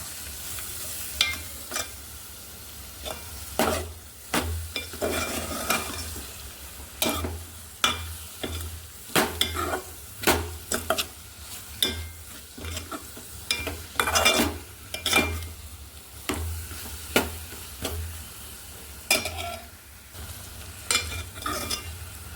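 Tender tamarind leaves stirred and fried in a pan for a curry, with a low constant sizzle broken by many sharp, irregular spatula scrapes and clinks, close and without talk.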